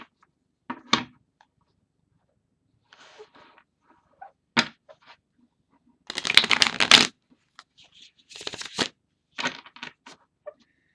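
Tarot cards are shuffled close by in several short, crisp bursts of riffling and sliding, with quiet pauses between them and no talking.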